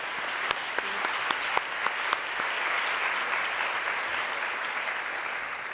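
Audience applause at a success gala for an opening number, a loud, dense wash of clapping with a few sharp nearby claps standing out early, holding steady throughout.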